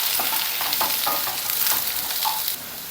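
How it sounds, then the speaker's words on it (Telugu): Chopped bottle gourd pieces stirred in a hot pan, a continuous close frying sizzle with soft repeated scraping strokes of the spoon. "వేసుకున్న తర్వాత వీటిని ఒకసారి ఇలా కలుపుకోవాలి."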